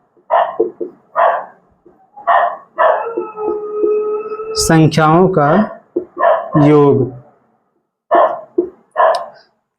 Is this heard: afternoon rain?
no